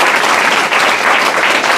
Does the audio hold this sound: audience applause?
yes